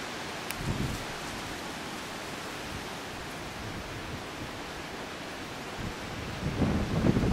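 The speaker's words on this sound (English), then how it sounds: "It sure is windy outside." Wind blowing outside at night, a steady broad rushing roar that rises into stronger gusts near the start and again at the end.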